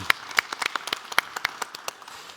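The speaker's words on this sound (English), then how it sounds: "Round of applause for our panelists" Audience at a drone technology summit applauding conference panelists: sparse, distinct claps from a modest crowd, sharp and close, thinning out and fading over about two seconds.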